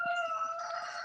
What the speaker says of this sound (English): The ducks and the roosters at the same time. They're loud as hell.